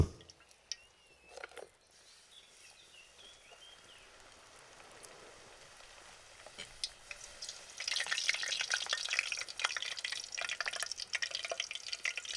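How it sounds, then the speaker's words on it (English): Lagana flatbread frying in a pan for an Ancient Roman recipe, a soft crackle at first that swells into a dense, steady sizzle over the last few seconds, close and continuous with no talk. "We fry the lagana for about 30 seconds."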